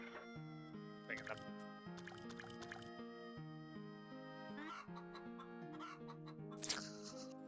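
Chicken clucks from the 1996 video game Wild Arms, a few short clucking bursts over steady layered game music that plays throughout.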